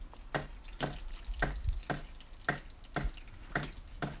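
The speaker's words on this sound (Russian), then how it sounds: "Вы слышите, капает, да? Это он тает." Meltwater from a heavy snowfall in Anapa dripping at a steady rhythm, about eight distinct, close drops landing roughly every half second over quiet background.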